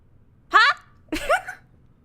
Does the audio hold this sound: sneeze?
yes